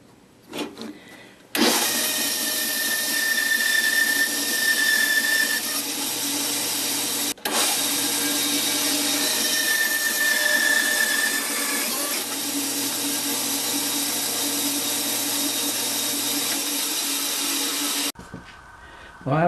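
A spinning wood lathe hums loudly while a tool squares the end of a pen blank in a steady rasping whine, briefly interrupted, then stopping near the end.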